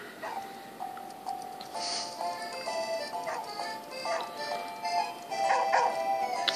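Small dog yips and whimpers from the Nintendogs video game with a French Bulldog, played on a handheld console, thin electronic barks repeating over a steady tonal game jingle while someone talks nearby.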